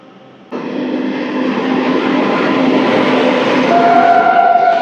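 Train noise at Nidadavolu junction railway station, a steady loud rumble starting abruptly after half a second and building, with a rising tonal whine toward the end; no talk.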